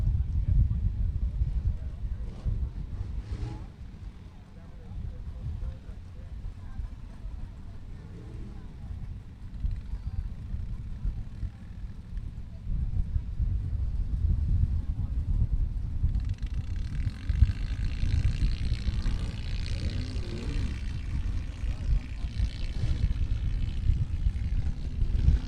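ASCS Elite non-wing sprint car engines rumble and idle low and steady at Texana Raceway Park after a push start, with a brighter burst of revving partway through and talk over the top.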